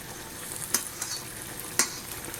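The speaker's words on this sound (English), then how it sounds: "Just been stirring it." A spoon stirs a pot of simmering cherry tomato soup, with a soft steady bubbling hiss and a couple of light scraping knocks against the pot.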